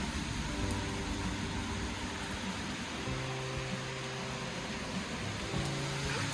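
Steady rain falling outdoors, a dense continuous hiss with a low hum of traffic or machinery underneath, constant and fairly loud throughout.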